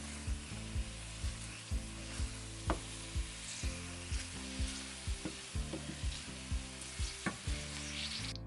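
Finely chopped garlic in a spoonful of hot oil sizzling in a pan, a soft continuous fry broken by a steady series of scraping stirs about every half second.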